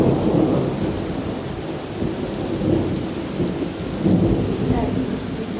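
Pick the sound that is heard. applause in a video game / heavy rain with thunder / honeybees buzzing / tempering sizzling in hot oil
heavy rain with thunder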